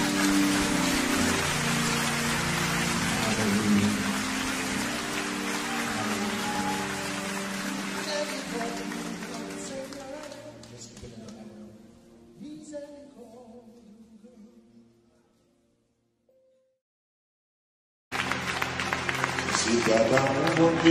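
A crowd at a church praise and worship service claps steadily for a long stretch while a voice speaks, fading out into silence before clapping resumes loudly.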